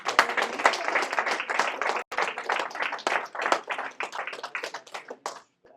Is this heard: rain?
no